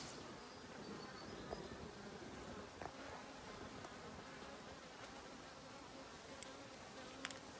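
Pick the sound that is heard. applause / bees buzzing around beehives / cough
bees buzzing around beehives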